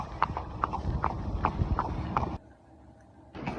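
A horse's hooves clip-clop on a hard street surface in a quick, even rhythm close by, then stop abruptly before a brief resumption.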